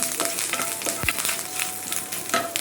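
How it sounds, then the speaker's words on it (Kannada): Curry leaves fry in hot oil and are turned side to side, a brisk close sizzle and crackle with soft stirring scrapes and a brief thud, without voices. "ಮತ್ತು ಸ್ವಲ್ಪ ಕರಿಬೇವು ಸೊಪ್ಪನ್ನು ಹಾಕ್ಕೊಳ್ತಾ ಇದ್ದೇನೆ ಇದಕ್ಕೆ. ಆನಂತರ ಸ್ವಲ್ಪ ಇದನ್ನು ಆ ಕಡೆ ಈ ಕಡೆ ಮಾಡಬೇಕು ಈ ರೀತಿಯಾಗಿ"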